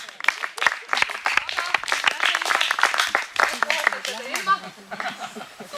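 Applause at a Saaremaa summer camp gathering, dense clapping from a group mixed with laughter and chatter, with voices talking over it throughout.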